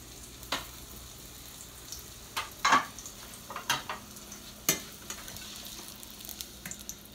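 Fry bake dough cooking in a pan, a faint sizzle beneath scattered scrapes and taps as it is turned, close and quiet with no voices.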